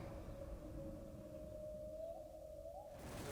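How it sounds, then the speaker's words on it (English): Whale-song-like noises in a Marvel film scene: a long, faint, sustained tonal moan that slowly bends upward near the end, over a low rumbling bed, with no talk. "Like a whale song."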